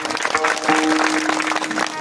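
An audience at a devotional abhang discourse claps together in a dense, steady burst of applause, close and loud, with a sustained musical tone or voice holding underneath.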